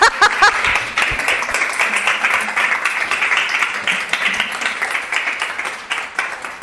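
Audience applause after an archaeology talk on Groote Eylandt: dense, steady clapping from a room of people, fairly close and sustained throughout, with a few sharper claps at the start.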